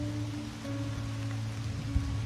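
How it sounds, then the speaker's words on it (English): Rain falls steadily in a soft, even patter with a low background hum, no voices present. "It's raining out there."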